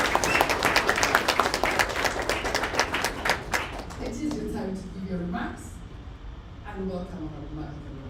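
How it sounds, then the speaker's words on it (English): Audience applause at a Kenyan forum on women in politics, loud and dense for about four seconds before thinning out, with a voice talking over the fading claps. "Can we clap for her?"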